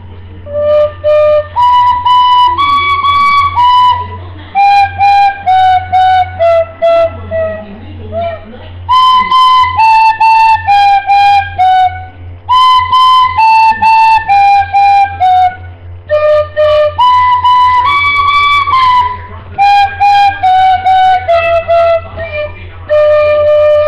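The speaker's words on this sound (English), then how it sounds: "here's Twinkle, Twinkle, Little Star and the tin whistle." Twinkle Twinkle Little Star is played on a tin whistle, with clear, bright notes in a steady melodic rhythm, close and loud over a low constant hum.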